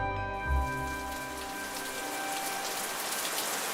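Rain patters steadily as a sound effect in a radio drama, a constant hiss of drops on a surface under low humming tones.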